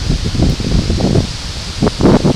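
Blustery wind with gusts around 34 mph buffets the microphone outdoors in continuous rumbling gusts, with rustling noise surging louder toward the end.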